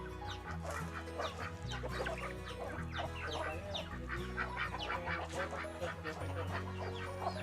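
Many Pelung and Bangkok chickens cluck and chatter at once in a busy, continuous flock, fairly loud, with a steady low hum underneath.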